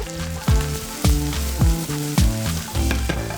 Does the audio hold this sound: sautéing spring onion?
yes